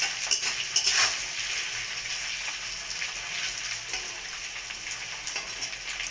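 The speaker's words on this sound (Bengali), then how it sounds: "তো মাছটা ভেজেছি একটু" Dried fish (shutki) sprinkled with salt frying in a pan: a dense, continuous crackling sizzle with a few metallic clinks near the start, close and steady throughout.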